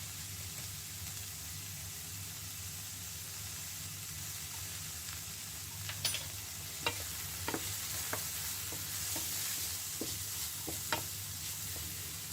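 Chickpeas and bell pepper frying in a pan, a steady soft sizzle with a scattering of sharp clicks and scrapes from a spoon stirring, close and moderately quiet, with no talking.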